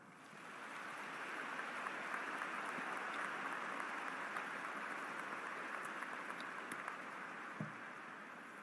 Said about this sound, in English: So let's give all of our supporters a warm round of applause.